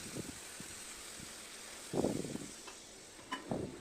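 Curry spiced with cumin powder simmers quietly in a pot while a spoon stirs it, giving faint bubbling and a few soft scraping strokes, low and close.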